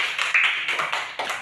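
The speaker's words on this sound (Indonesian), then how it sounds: "Mari kita tepuk tangan" A class claps hands together in a short burst, a quick irregular patter of claps at moderate distance, fairly light and brief.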